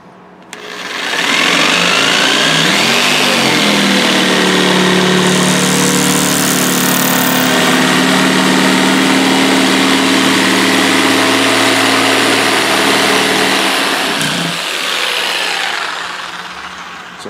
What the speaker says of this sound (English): I'm gonna show you what a difference this makes using this jigsaw blade sharpened to a knife edge